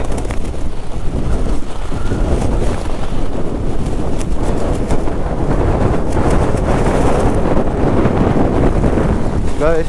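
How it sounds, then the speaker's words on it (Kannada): Strong monsoon wind buffets a microphone on a rainy ride through Chikmagalur, a loud, continuous rumbling roar that fills the whole stretch without letup. "ಗಾಳಿ ಜಾಸ್ತಿ ಆಗ್ಬಿಟ್ಟೈತೆ."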